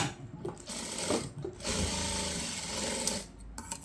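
A sewing machine runs almost continuously, stitching fabric back and forth to reinforce a seam, with short pauses near the start and end, loud and close.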